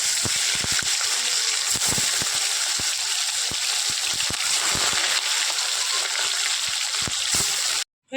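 Water sloshing and hot oil sizzling as fresh koi fish are put in to cook for a light fish curry, a steady close hiss with scattered splatter pops, ending in a brief cut to silence.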